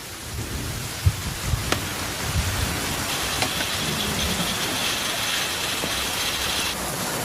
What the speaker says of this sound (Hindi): हाँ यहाँ पर बारिश हो रही है